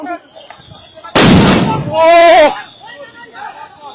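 A police sound grenade goes off during a street clash in the capital: one sharp, loud blast cuts through quieter background noise and is quickly followed by a brief raised voice.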